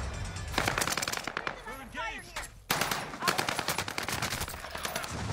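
Rapid automatic gunfire in a video game rattles in dense repeated bursts, broken by a brief pause before the firing resumes, loud and close.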